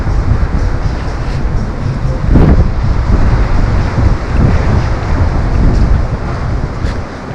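Strong wind buffets the microphone on a seaside embankment at Lazarevskoye near Sochi, a loud, steady roar with gusty swells and rumbling low thumps throughout, no voices.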